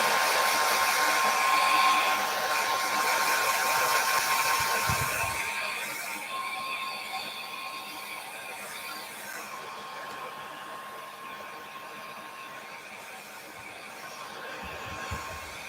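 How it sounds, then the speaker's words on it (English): A hair dryer set to low runs steadily the whole time, a close, loud, continuous airy whoosh that eases down slightly partway through, with no one talking over it. "I got to put it on so I can dry this on low."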